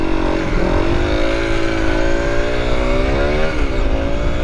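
A 125cc motorcycle accelerates hard in first gear, its engine note rising loud and close with a steady climbing whine, dipping once briefly before pulling up again.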